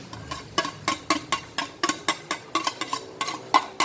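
Onions go into a cooking pan and a spatula works them in quick, regular strokes, a close series of sharp scraping taps about every quarter second over a faint sizzle.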